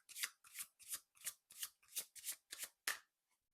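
Tarot cards being riffle-shuffled and drawn, nine crisp papery bursts in a steady rhythm, close and fairly quiet, ending with a faint final tap and no talking.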